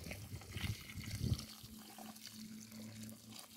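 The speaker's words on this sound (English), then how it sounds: "the personal touch of watering my garden" Water runs steadily while a home front-yard garden is being watered, a soft continuous splashing and gurgle, close and fairly faint, with no talk.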